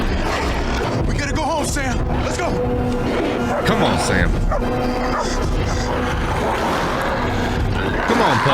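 Dogs bark and yip in a scene from the 2007 film I Am Legend, the barking mixed into a busy, loud soundtrack with a person talking over it and crashing movement throughout.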